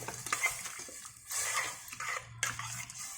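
Yogurt is stirred into brinjal biryani masala in a pot: repeated scraping and swishing strokes with soft clinks against the pot, over a low steady hum.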